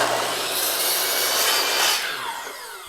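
Miter saw slicing through a wooden workpiece against a zero clearance auxiliary fence: one loud, close, harsh cut lasting about two seconds, then the blade winds down.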